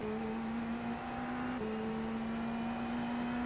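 Dallara IL-15 IndyNXT race car engine at Long Beach in the iRacing video game, a steady droning whine that drops as it shifts down to first gear, then climbs again under gentle throttle, fairly quiet.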